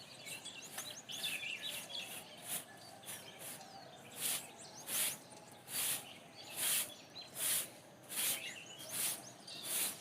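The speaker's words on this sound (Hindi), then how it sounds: "पंछियों की चहचहाने की आवाज़ मन को बहुत सुकून देती है" Birds chirping and tweeting on a village morning, steady twittering from several birds with a run of louder, evenly spaced repeated calls in the second half, some near and some farther off, with no talking.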